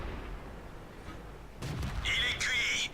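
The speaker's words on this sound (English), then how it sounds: "something is shooting at me" Incoming tank cannon fire in World of Tanks: a muffled boom followed by ringing metallic tones, moderately quiet over a low rumbling background, with faint talk partly overlapping.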